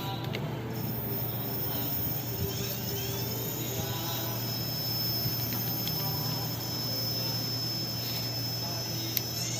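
An electric bike motor whirs at a steady throttle, a faint continuous hum with a thin high whine and a few soft ticks, quiet throughout.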